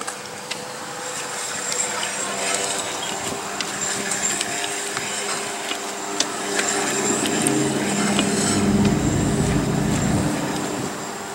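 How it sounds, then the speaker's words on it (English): An RV travel trailer wheel is spun slowly by hand while grease is cranked into its bearings, giving a steady rustling, scraping mechanical noise with occasional small clicks and a louder rumbling stretch late on. "We're gonna start spinning our wheel here. And we're just gonna slowly spin as we crank"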